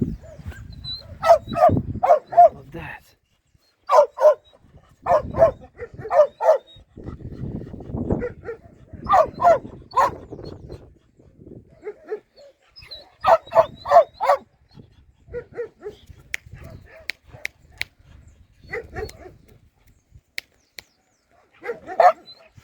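A Laika hunting dog barks repeatedly in sharp bursts, some yips mixed in, with quieter gaps and a few soft whimpers between volleys.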